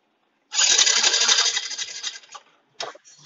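Suzuki Smash 115 motorcycle engine with a misfire, running close and loud for about two seconds with a rough, uneven rattle, then fading, going quiet, and coming back in short bursts.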